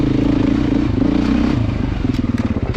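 A Beta dirt motorcycle being ridden, its engine droning loudly and steadily with harmonic tones, then pulsing unevenly near the end as the throttle changes.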